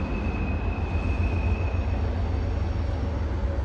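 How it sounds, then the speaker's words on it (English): A Union Pacific freight train hauled by several locomotives rumbles past steadily and fairly loud near Colfax, California, a continuous low roar with a faint high whine, no voices over it. "Got to get a shot of the UPR train."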